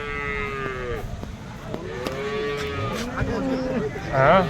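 Cattle at a busy livestock market in Pollachi, several animals mooing in overlapping calls of varying pitch, some near and loud, with a strong bellow at the end and faint crowd noise beneath.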